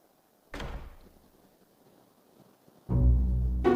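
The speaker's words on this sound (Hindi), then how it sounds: "you can close the door if you're asked to do it in Urdu" A door is pushed shut with a dull thump, followed a few seconds later by a second, heavier slam, both close and loud in an indoor room.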